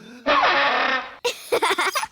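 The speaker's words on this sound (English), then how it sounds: "That's the sparl throttle." Sparl throttle, a funny cartoon instrument, gives a loud raspy sputtering blare for about a second, alone, followed by someone talking.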